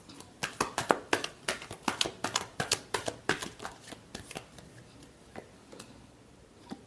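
Tarot cards being shuffled by hand, a quick run of crisp riffling flicks and soft slaps in an irregular steady rhythm, close and fairly quiet with no talking.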